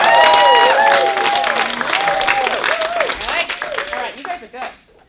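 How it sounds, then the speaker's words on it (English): An audience of about thirty at a community storytelling event in a library bursts into loud, thunderous clapping with whoops and whistles, then the applause thins and dies away to near silence. "So let's practice thunderous applause."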